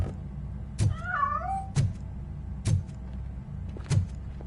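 A cat meows in the video game RoboCop: Rogue City, one wavering mew among four sharp, loud, evenly spaced thuds, with steady low rumbling underneath.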